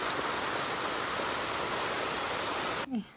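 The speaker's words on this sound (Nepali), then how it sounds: "यस्तो पानी परिरहेछ कत्रो पानी परेको होइन।" Steady heavy monsoon rain pours down on a rural home in cold weather, a dense continuous hiss of drops close by that cuts off abruptly near the end.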